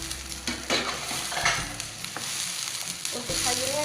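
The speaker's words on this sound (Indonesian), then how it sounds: "Aduk." Capcay vegetables stirred and sizzling in a pan: a steady hot fry hiss with the scrape and knock of a utensil moving through the food, close and continuous.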